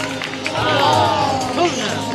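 Stadium crowd applauding a British high jumper after a failed attempt at 2.02 m in a decathlon meet on Milos, a broad steady wash of clapping and murmur with a voice speaking over it.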